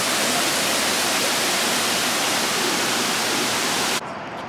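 A waterfall pours with a loud, steady broadband rush of water that continues unbroken and drops slightly in level near the end.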